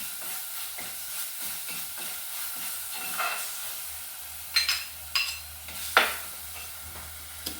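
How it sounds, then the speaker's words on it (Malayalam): Ground ginger, garlic and bird's-eye chilli paste sautéing in a hot pan, giving a steady soft sizzle with scattered stirring scrapes and a few sharper clinks of a spoon against the pan. "അതിലേക്ക് നമുക്ക് കുറച്ച് ഇഞ്ചിയും വെളുത്തുള്ളിയും കുറച്ച് കാന്താരിയും കൂടി അരച്ച് വെച്ചിരുന്നത് ചേർക്കാം. ആദ്യമായിട്ട് ഇതൊന്ന് വഴറ്റിയെടുക്കുക."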